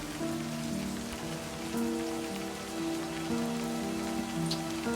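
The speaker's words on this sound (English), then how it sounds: "The raindrops fall on your paper," Steady rain falling in the video game LIVBER, a constant soft patter with low sustained music tones underneath, with no talking.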